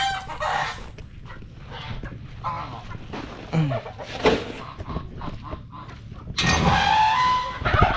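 Hungry turkeys on a farm gobble and call over one another, close and loud, in an unbroken jumble of honks and clucks.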